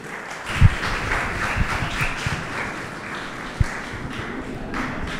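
An audience applauds to welcome M. Anas Seko, an environmental speaker, onto the stage: steady clapping across the whole span, with a few sharper, louder claps standing out near the start and again later.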